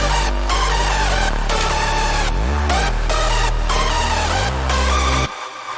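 A hardstyle break with multiband compression and boosted EQ on the master plays as a dense, loud, distorted electronic mix. Heavy low bass runs under it, with pitch-sliding kicks and short rhythmic gaps, and it cuts off near the end.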